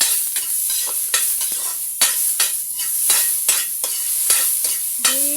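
Beef goes into a hot karahi and sizzles hard while a spatula scrapes and stirs it in quick, repeated strokes, all close up with no one talking.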